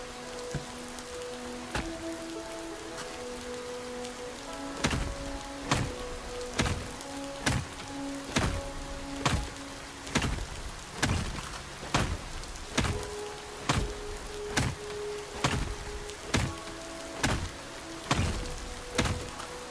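Rain drips and patters inside an Alaska gold-mining tunnel, with loud, sharp drops striking at a steady, nearly regular beat over a constant background hiss and faint ringing tones, close and echoing.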